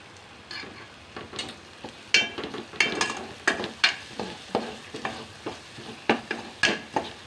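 Ground masala with turmeric roasting in oil in a pan for Satara-style udad dal aamti, soft frying crackle punctuated by regular scraping stirs that repeat in a steady rhythm, close and fairly quiet, no talking.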